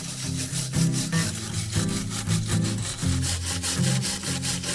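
A hand tool scrapes loose material and paint off a surface in steady back-and-forth strokes, a close, rhythmic rasping repeated about twice a second.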